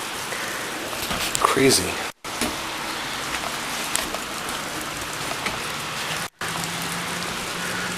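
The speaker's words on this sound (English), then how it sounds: "And of course, it's raining again." Steady rain pours down throughout, a dense, even hiss with two brief dropouts, while a voice speaks over it near the start.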